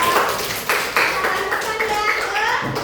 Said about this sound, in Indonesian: Tepuk tangan bagian kedua.